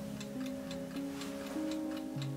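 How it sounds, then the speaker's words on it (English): An old alarm clock in an abandoned house ticks steadily and faintly, an even rhythm over a low background hum. "This alarm clock is still ticking."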